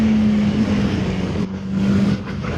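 Voge RR 500 S motorcycle engine at steady low revs while riding a mountain road, a continuous droning hum with wind rush that dips briefly mid-ride, then holds on through the corner.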